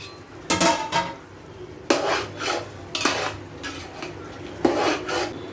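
A utensil scrapes and clanks against a pot while chicken biryani is stirred, with several distinct metallic strokes and rasps at irregular intervals, close and fairly loud, with no talk.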